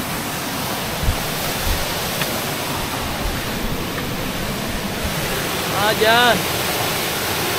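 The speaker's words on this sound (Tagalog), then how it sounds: "At ito, narating na kami sa Birabira Falls." Waterfall at Bira-Bira Falls in Cawag, Subic, Zambales, a loud, constant broadband roar of falling water heard close up, with a voice briefly heard over it near the end.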